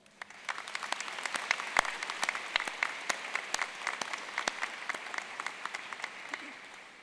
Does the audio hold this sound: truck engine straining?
no